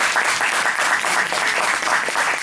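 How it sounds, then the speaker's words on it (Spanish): Audience at a Rotary Club talk breaking into steady, dense applause, close and even throughout, with no talking over it. "Un aplauso, por favor."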